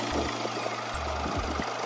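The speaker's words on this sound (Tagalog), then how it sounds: "Engine." Vehicle engine running, a steady close idle with a low pulsing drone and constant mid-range hum, heard alone with no voices.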